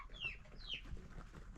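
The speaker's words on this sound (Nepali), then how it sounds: "कुखुराहरू यहाँ काकीले खोल्नु भएको रहेछ" Free-roaming village chickens cluck softly nearby, a couple of faint higher calls over quiet outdoor background.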